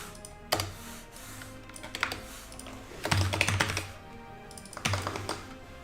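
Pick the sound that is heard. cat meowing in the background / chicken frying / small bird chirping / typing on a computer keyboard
typing on a computer keyboard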